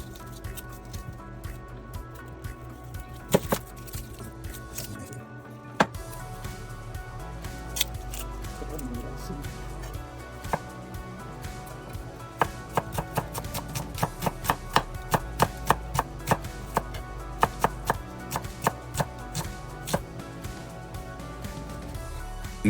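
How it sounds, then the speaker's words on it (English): A knife cuts lime wedges and shallots on a board, with scattered chops at first and then a quicker run of crisp, steady strokes over a continuous background hum. "Let's cut some lime wedges for serving with the bowl and some shallot."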